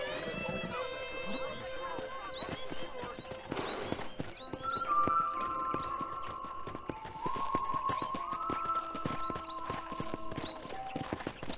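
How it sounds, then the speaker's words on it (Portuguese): Horse hooves clip-clopping at a steady riding pace in the video game Red Dead Redemption, with a horse whinnying and game music and a voice talking over the top. "Os cavalos são bem feitos, né?"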